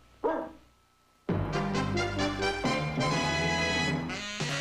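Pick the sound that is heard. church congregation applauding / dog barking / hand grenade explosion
dog barking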